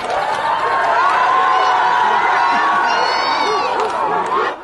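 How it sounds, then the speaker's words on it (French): A jubilant crowd of protesters at the Solidarité Mayotte charity offices in the Massimoni quarter of Mayotte, celebrating after padlocking the premises: loud, sustained shouting and cheering from many voices nearby, with high yells and ululation-like cries rising over the din. "La foule, en liesse, se réjouit d'avoir réussi à cadenasser les locaux de Solidarité Mayotte"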